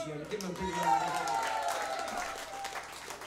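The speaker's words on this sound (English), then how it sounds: "Give them a big round of applause." A pub crowd at a live music gig applauds and cheers in a sustained wash of clapping, with someone speaking over it through a PA.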